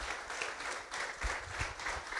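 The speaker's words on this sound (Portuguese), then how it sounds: "Vamos aplaudir ao Senhor" Church congregation applauding together, a steady wash of clapping hands that is fairly faint and continuous throughout, with no talk over it.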